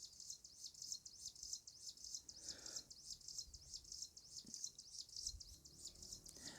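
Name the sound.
bird chirping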